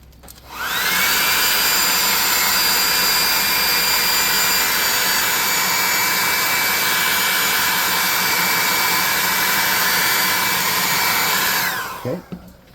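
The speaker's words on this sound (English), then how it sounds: "let's hit it with the hair dryer." A hair dryer blows steadily and loudly for about eleven seconds on a tabletop model pack mule being made for a role-playing game, starting up abruptly and cutting off near the end, with a faint whine riding over the airy roar.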